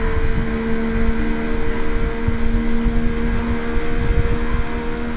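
A Yamaha MT-09 motorcycle in the video game RIDE runs in a high gear, giving a steady, loud engine drone with a constant pitch and no voices.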